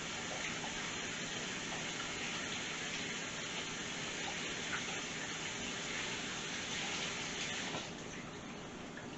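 A kitchen water tap runs steadily while hands are washed beneath it, giving a close, continuous broadband gush for about nine seconds that eases slightly near the end.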